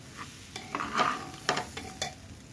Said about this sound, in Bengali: এদিকে আমি একটু বাদাম ভেজে নিচ্ছি